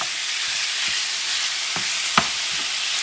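Ground meat cooks in a pan for pasta picadillo, a constant close sizzle with intermittent spoon scrapes and one sharp tap against the pan.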